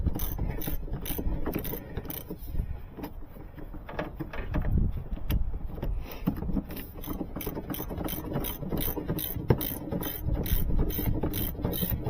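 A 2.5-liter Iron Duke four-cylinder in an Astro Van cranking over, the starter spinning it unusually fast with no compression strokes, giving a steady, even mechanical whir that keeps going throughout.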